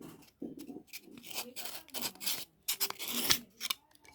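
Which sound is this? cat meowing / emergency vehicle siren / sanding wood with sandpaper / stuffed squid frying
sanding wood with sandpaper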